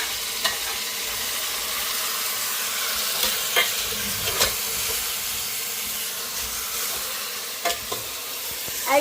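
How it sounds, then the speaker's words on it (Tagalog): Chicken pieces being stirred into sautéed spices in a pot for chicken tinola, steady sizzling and frying hiss with a few sharp scrapes and clacks of the spoon against the pot, with no one speaking. "Haluin mo, kailangan mahalo siya dun sa spices na binisa mo."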